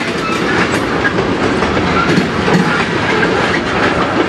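Two CSX locomotives haul an industrial freight train in Sarnia, its railcars rolling past close by with a loud, steady rumble and a faint clickety-clack of wheels over rail joints.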